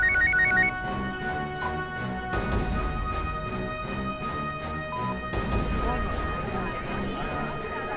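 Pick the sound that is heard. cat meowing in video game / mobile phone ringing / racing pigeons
mobile phone ringing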